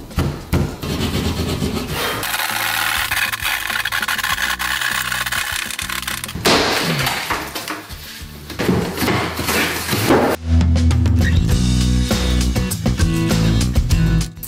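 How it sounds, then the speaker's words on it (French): Rough, continuous rasping of a keyhole saw cutting through material, loud and close, with brief changes in stroke and a louder grinding stretch near the end. "mettre un coup de scie à guichet"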